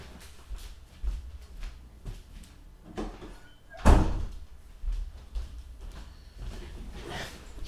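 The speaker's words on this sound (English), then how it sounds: "I'm going to close the door." Indoor door being closed, with shuffling and handling knocks before one loud thump as it shuts midway, followed by softer bumps and movement, close by and heard without talk.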